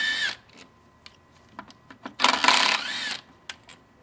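Power tool removing bolts during engine work on a turbo engine install, short whirring bursts and scattered clicks, with one longer loud run in the middle, close by and without speech.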